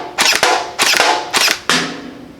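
An Out-of-Darts BK-1S dart blaster fires four loud, sharp shots in an uneven sequence close to the microphone, each crack followed by a short mechanical rattle and decay.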